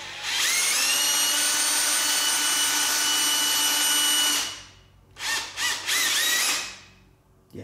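Lathe recutting the taper of a 5C collet drawbar, giving a steady high whine with ringing tonal overtones for about four seconds, then several short bursts as the cut resumes and stops.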